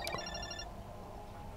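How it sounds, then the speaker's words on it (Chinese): A mobile phone ringtone rings nearby, heard from an adjacent balcony in a horror-themed game: a bright, repeating electronic melody plays for about half a second over a low ambient hum, then cuts off. "点解我打俾阿明香个大个电话一响？"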